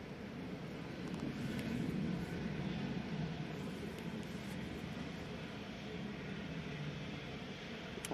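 Light aircraft landing at Manchester Airport in Storm Ashley, a steady distant engine drone buried under continuous gusting wind and microphone buffeting, faint and unbroken.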